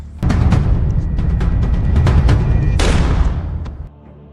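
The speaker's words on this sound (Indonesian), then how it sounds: "terdengar suara tembakan" A dense burst of sharp gunshots and impacts over a loud rumbling bed, with a hissing blast near the end before it cuts off, from a film.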